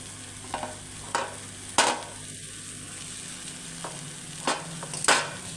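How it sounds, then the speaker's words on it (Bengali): Fried prawns tipped into a hot pan and stirred, giving a faint continuous sizzle broken by several sharp scrapes and knocks of a spatula on the pan. "আমি যত চিংড়ি মাছগুলো ভেজে রেখেছিলাম এখানে আমি দিয়ে দিলাম"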